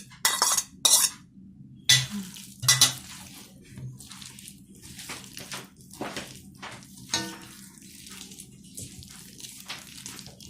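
Onions and chopped green chillies fry in a home-kitchen pan, with a few sharp utensil clinks and scrapes early on, then softer intermittent sizzling and stirring close by, no talking.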